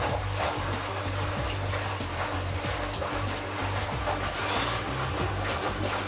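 A washing machine drum turning on a low-spin normal cycle, a home appliance being repaired, gives a steady, continuous whirring hum with a low motor drone that holds even throughout.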